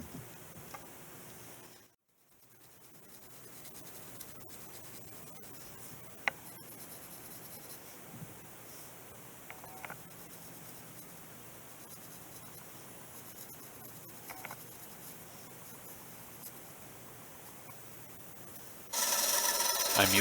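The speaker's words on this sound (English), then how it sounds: "I'll trace a line on the handle using the John Deere grass stick for a pattern." A pencil traces a line along a wooden mower grass-stick handle, giving a faint, steady scratching that pauses briefly early on, with a louder rustle at the very end.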